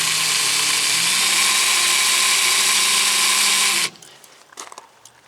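A power drill with a 3/16 bit bores into rivets on an aluminum boat transom, a loud steady high whine for nearly four seconds that then cuts off, followed by faint scattered clicks and handling noise.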